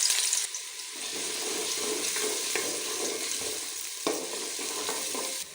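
Onion sizzles in hot oil with cumin seeds, a steady close frying hiss broken by spoon scrapes and clatter against the pan, loud and with no one talking.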